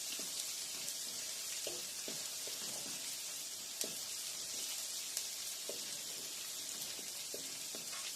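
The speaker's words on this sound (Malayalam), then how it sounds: "കുറച്ച് ഒരു സ്ലൈറ്റ് ബ്രൗൺ ആവണ വരെ ഇത് കുറച്ച് വഴറ്റി കൊടുക്കാം, ഇളക്കി കൊടുക്കാം" Shallots sauté gently on the lowest flame for a Kerala nadan chicken curry, a soft, steady sizzle with a spoon tapping and scraping the pan at irregular intervals, faint and close, without talk.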